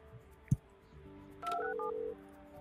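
Short electronic telephone tones from the Project Highrise building-management game, a brief two-tone beep pattern lasting about half a second after a soft click, fairly quiet against a faint background.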